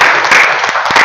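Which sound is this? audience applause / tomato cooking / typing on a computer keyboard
audience applause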